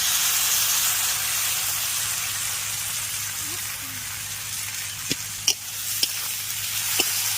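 Fried thankuni leaves are sautéed with poppy seed paste and green chilli, making a soft, steady sizzle and hiss with a few sharp spatula taps near the end.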